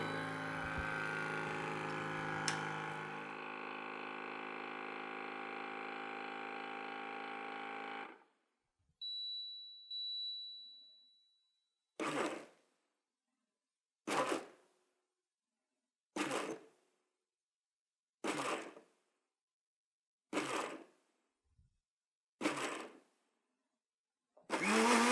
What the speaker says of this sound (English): I hit this button, it'll vacuum, then it will do 3 pulses, and then it will do a certain length of speed.